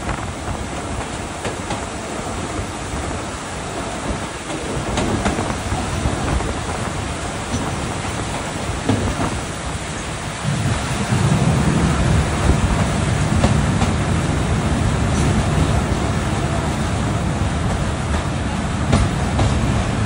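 A broad gauge commuter train on the Jashore to Benapole line runs steadily, a loud continuous rumble with wheel clatter heard from on board that swells heavier midway and stays dense to the end.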